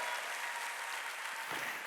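Applause from a congregation at a church worship service, a dense and even burst of clapping that fills the whole short moment without voices over it.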